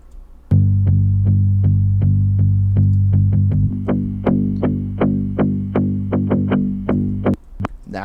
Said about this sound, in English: A little bit of distortion.